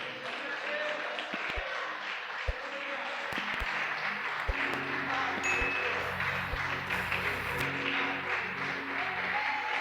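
A church congregation applauds during a Portuguese-language sermon, with scattered claps and a sustained wash of crowd noise under ongoing talk and a few sharp knocks.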